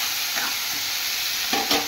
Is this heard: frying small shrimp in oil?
yes